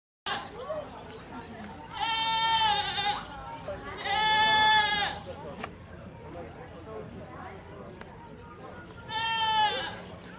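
Intact male goats at a Michigan zoo bleat in three loud, drawn-out calls spaced several seconds apart, with a faint background murmur between them.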